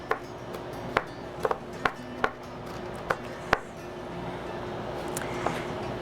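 A knife chopping vegetables, including carrot for a mirepoix, on a cutting board: about ten crisp, separate knocks at an uneven pace over a low steady background, with no talking.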